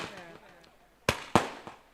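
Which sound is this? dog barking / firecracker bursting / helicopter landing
firecracker bursting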